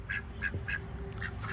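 A duck quacks five times in a quick, even series in a chicken coop, moderately close, over a low rumbling background.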